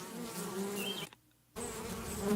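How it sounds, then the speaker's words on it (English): Bees buzz close by in a steady, fairly loud drone with shifting pitch, broken by a half-second gap of near silence before the buzzing resumes; no speech. "I got a bunch of bee videos."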